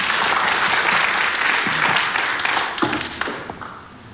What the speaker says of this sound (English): That shot appreciated by the crowd here at the Casino de Deauville.